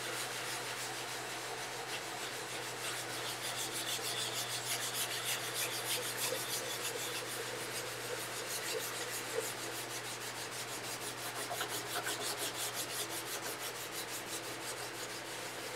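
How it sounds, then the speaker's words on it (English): Quiet, steady scrubbing of a pumice and Chinese wood oil mix over a wooden box surface, a soft continuous gritty rubbing with faint rhythmic strokes and a low background hum. "you can actually hear that scrubbing the surface"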